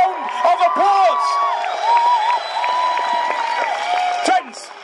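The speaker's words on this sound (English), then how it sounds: "So please give the organizers a massive round of applause." Crowd at an outdoor climate emergency rally in a city square cheering and applauding, with whoops and shouts rising and falling over a steady clatter of clapping, loud and close.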